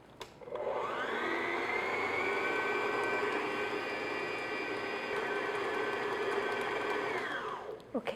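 An electric mixer runs on medium-low speed, working cold egg yolks into cherry tart dough. It spins up, holds a steady whirring drone for about seven seconds, then winds down and stops.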